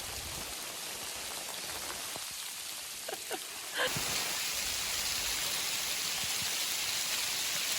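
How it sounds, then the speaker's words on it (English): Precipitation hisses steadily on the roof of a DIY log cabin with a mini wood stove, a dense even patter that grows louder partway through as rain gives way to hail, with a few faint knocks. "Went from sun to rain to now hail."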